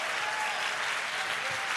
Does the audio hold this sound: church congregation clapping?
yes